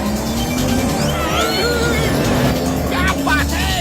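Fast cartoon car driving along with a steady engine hum, tire squeals and whooshing zips, busy sound effects and music filling the background throughout.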